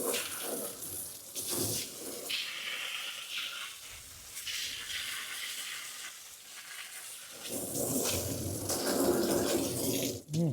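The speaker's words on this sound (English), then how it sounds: "Wash this rake off." A rake being washed off under running water, with a steady broadband splash and hiss that shifts in intensity throughout, close and fairly loud, no talking.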